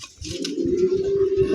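A pair of Giribaz high-flyer pigeons, a male and an active female, cooing in repeated throaty low pulses, close and fairly clear with no talk.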